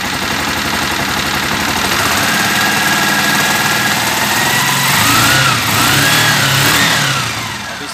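A 2003 Honda CG 125 Titan KSE motorcycle engine runs loud and close, revving up and holding, with a couple of throttle swells before it settles back toward idle, and no talking.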